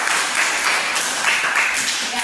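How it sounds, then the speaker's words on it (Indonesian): Applause from a classroom audience during a school crafts and entrepreneurship lesson, a steady wash of clapping hands that holds for a couple of seconds. "Sekali lagi mari beri aplaus untuk seluruh"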